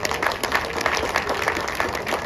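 An audience claps in a dense, steady round of applause at a mall opening event, with the crowd's hands blending into a continuous crackle throughout.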